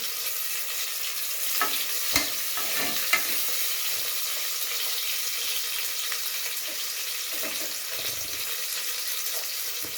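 Onions sizzle steadily in a hot pan for a cabbage curry, a continuous bright frying hiss with occasional stirring scrapes and clinks, close and fairly loud, with no voices.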